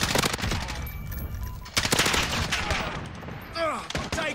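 Rapid automatic gunfire crackles in a Call of Duty Modern Warfare online match, dense bursts of close shots overlapping with distant fire and whizzing effects, loud and continuous across the moment.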